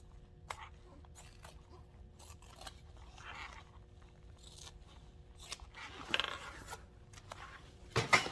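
Scissors snip and trim fabric while sewing a tote bag, a few scattered close cuts with one sharper snip near the end, set against quiet room noise.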